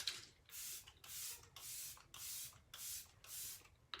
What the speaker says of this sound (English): I'm gonna set my makeup with the Let It Set Refreshing Spray.